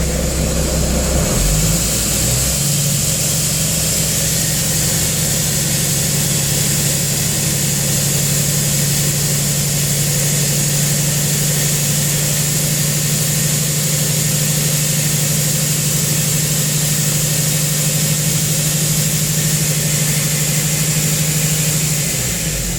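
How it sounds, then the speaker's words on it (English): Truck diesel engine held at around 1200 to 1500 RPM to build air brake pressure, a loud, steady drone with a constant hum that stays level throughout with no talk. "I will accelerate between 12 and 1500 RPM till my needle stabilizes."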